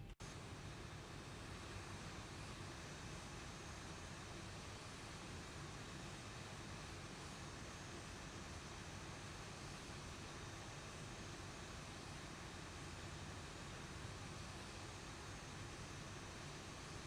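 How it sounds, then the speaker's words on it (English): Broad steady roar of a Ryanair airliner taking off in the X-Plane 11 flight simulator, a constant dense wash of engine noise holding at even loudness throughout with no voices. "There goes the Ryanair."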